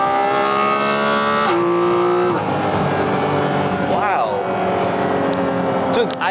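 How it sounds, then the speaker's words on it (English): A loud Porsche GT4 RS engine roars steadily, with a sharp gear change partway and rising revs, the drone filling the cabin. "I don't think I've been in a car that engine is just that loud."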